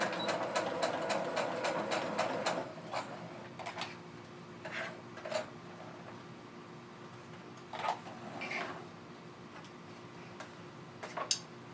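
Sewing machine back stitching a cross body bag: a fast burst of rapid needle ticks at the start, then shorter stitching runs and scattered clicks and handling sounds, close and fairly quiet.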